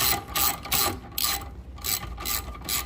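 A ratchet snugs a bolt on the engine mount of a Honda CR-V with a 2.4L engine, making close, rapid clicking bursts in a quick back-and-forth rhythm, with one short pause midway.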